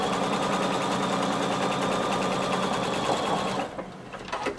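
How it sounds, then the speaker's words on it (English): Sewing machine stitching a neckband seam with a 5/8 inch allowance, a fast close mechanical whirr of rapid needle strokes that runs steadily, then stops into a few quieter clicks. "we're going to sew across the top using 5/8 of an inch seam allowance"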